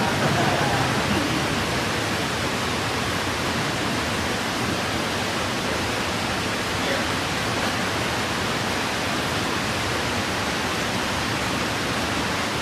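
Steady rain pours outside a mosque during an evening lecture, a dense unbroken hiss at constant loudness throughout with no breaks.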